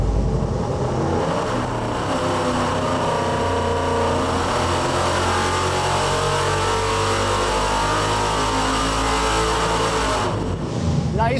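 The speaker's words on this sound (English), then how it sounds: "Pretty healthy FE." A healthy Ford FE V8 revs hard through a dyno pull with 36 degrees of ignition timing, a loud, sustained engine roar climbing in pitch before cutting off near the end, with voices faintly underneath.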